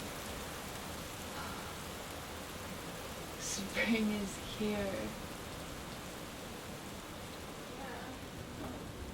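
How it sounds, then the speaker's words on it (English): Steady spring rain hisses as a soft, even wash of noise, with a person speaking briefly partway through. "Really missed the sound of rain and thunderstorms."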